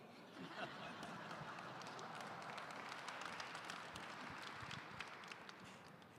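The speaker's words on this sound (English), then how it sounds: "The rest of y'all should clap." Audience clapping at a conference talk on AI, a dense, steady patter of many hands heard from a distance throughout, fairly faint, with no clear speech over it.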